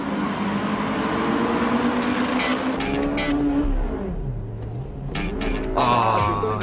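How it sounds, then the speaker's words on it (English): Honda Civic EK9 Type R racing a light-tuned Toyota Altezza around a circuit, engine droning loudly and steadily with pitch rising and falling through shifts, close and continuous with no talk. "Still, the Civic car passes the light-tuned Altezza on the inside."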